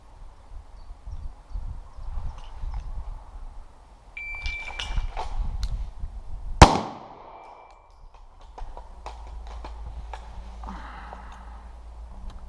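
A single sharp pistol shot at a military shooting test, heard once mid-clip with a loud crack, amid quieter rustling and handling sounds before and after.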